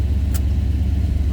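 A 1965 Pontiac Catalina 2-door hardtop engine idles with a steady low rumbling pulse, close and continuous through the brief moment, with a short faint click partway.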